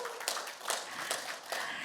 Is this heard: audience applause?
yes